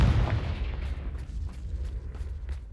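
A Confringo blast in Hogwarts Legacy hits with a heavy boom at the very start, then leaves a long, low rumble crackling with faint scattered pops as it fades.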